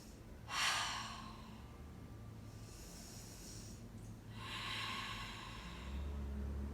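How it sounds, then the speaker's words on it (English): Deep, slow breaths during a yoga class hold, two long audible exhales a few seconds apart, close and fairly soft, with a quiet room in between and no talking. "3 rounds of breath here."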